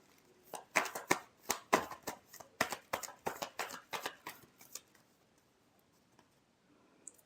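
A deck of tarot cards is riffled and bridged in quick bursts of crisp flapping and snapping for about five seconds, close and clear, then fades into near silence.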